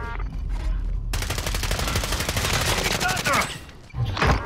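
Rapid DMR rifle fire crackles in sustained, evenly spaced bursts during a Warzone match. The shots are loud and close and run through most of the stretch, with a short break before a final burst.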